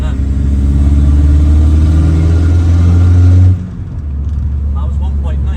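A VW 1.9 TDI diesel with a 3-inch downpipe and no exhaust revs hard, a loud, raw drone held for about three and a half seconds before dropping to a rougher idle.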